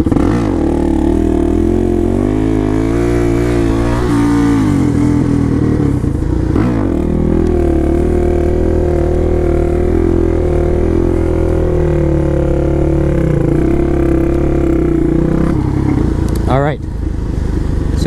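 A supermoto motorcycle engine holds a loud, steady drone with slight throttle swells during a wheelie, while someone talks over it throughout.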